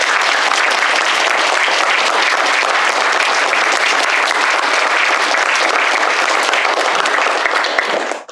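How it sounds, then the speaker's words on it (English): A graduation ceremony crowd gives a sustained round of applause, loud dense clapping that holds steady for about eight seconds before cutting off abruptly at the end. "So let's give a round of applause for Ani."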